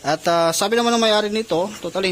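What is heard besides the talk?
No distinct noise like a dog, phone or traffic.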